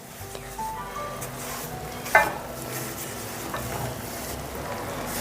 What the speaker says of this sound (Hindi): ये देखिए इस तरीके से 10 मिनट हो चुके हैं सूजी हमारी भूनते हुए।